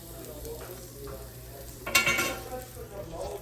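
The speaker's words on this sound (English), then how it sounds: "all I'm going to do is saute until they're nice and golden brown" Garlic and breadcrumbs seasoned with black pepper and Italian seasoning sauté in a pan, a faint sizzle under soft stirring scrapes, with a brief louder clatter of a utensil midway.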